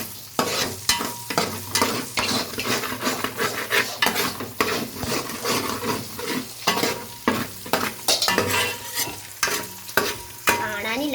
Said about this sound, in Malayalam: നമുക്കിത് നല്ലപോലെ മൂപ്പിച്ചെടുക്കാം കേട്ടോ.